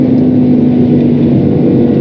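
A BMW M5 E61 Touring V10 engine roars at high revs, a loud, steady, tonal drone held close up with a slight dip near the end.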